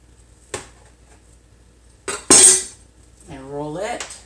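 A knife taps and scrapes on a pan or board while cutting bagel dough into pieces, a few sharp isolated clicks followed by a brief clink, with a short voiced sound near the end.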